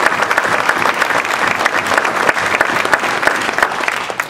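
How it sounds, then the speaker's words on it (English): Sustained, loud applause from an audience at an annual association meeting, honoring outgoing board members, with dense clapping holding steady throughout. "once again, for the outgoing board members, round of applause,"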